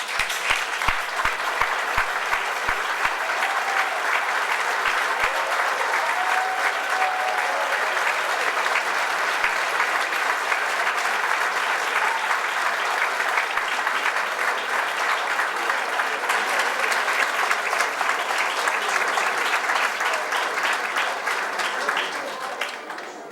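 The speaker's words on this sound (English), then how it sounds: "kindly stand now and receive the applause from the audience" Large audience at a civil rights heritage walk dedication ceremony giving long, sustained applause to the foot soldiers, a loud steady wash of clapping with crowd voices mixed in.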